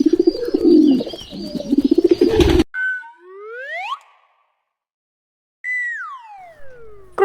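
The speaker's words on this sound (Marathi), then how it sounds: "पिजन म्हणजे कबूतर." A pigeon gives a low, throaty run of cooing for a couple of seconds, then smooth whistle-like tones rise and fall with silent gaps between them.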